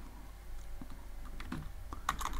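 Computer keyboard keys typed in a steady run of close, crisp clicks with a few heavier taps near the end, no voices over them.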